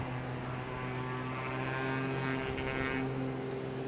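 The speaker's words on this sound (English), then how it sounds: "Here's a Cape Air heading to Bar Harbor, taking off from Charlie, which is a taxiway in the middle of these runways" A Cape Air plane takes off from taxiway Charlie at Boston Logan Airport, bound for Bar Harbor: a steady propeller drone with strong low harmonic tones, fairly close and continuous throughout, no talk.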